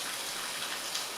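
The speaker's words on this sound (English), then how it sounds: "now it's just raining" Steady rain falls on a hot, humid day, a soft continuous hiss of drops spread evenly throughout, moderately close and without any voices.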